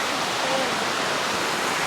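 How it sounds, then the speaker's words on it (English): Basket Swamp lower falls, a waterfall pouring in a constant loud broadband rush of falling water, close and unbroken. "We're just at the Basket Swamp lower falls at the moment."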